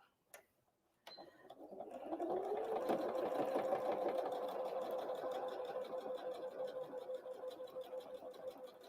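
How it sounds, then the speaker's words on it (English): After a couple of sharp clicks, a sewing machine ramps up and stitches a Christmas tree napkin closed, a close, rhythmic ticking hum that stays steady until the end. "we're just going to sew this right closed now"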